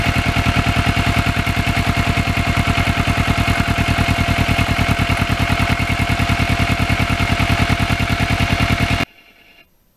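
Kawasaki Ninja 650R motorcycle on back roads, its engine droning loudly and steadily with a fast, even pulse under constant rushing wind, cutting off abruptly near the end.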